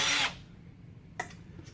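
A power drill driving into wood while assembling a wooden beehive body, one loud short whirring burst at the start, then near silence broken by a brief knock and faint handling noise.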